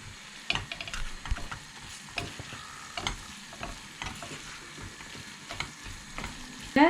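Dried fish thokku cooks on a stovetop, a soft continuous sizzle broken by repeated scraping stirs and taps of a spoon against the pan, close and without speech.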